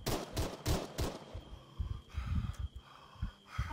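Gunfire in ARMA 3 Breaking Point, a quick run of sharp close shots at the start followed by scattered thumps and more distant reports, with breathing-like noise between.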